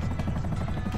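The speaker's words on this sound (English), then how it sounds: "Chopper's coming in." Helicopter rotor thumping in Grand Theft Auto V, a brief, loud, continuous low chop with rhythmic pulses and no voices.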